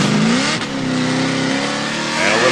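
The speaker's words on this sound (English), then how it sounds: "smacking that throttle down to get out to outside 4, and then dumps into our final outside 5" A drift car's engine revving hard under throttle during a qualifying run, a loud, close, continuous roar with rising and falling pitch sweeps and no pause.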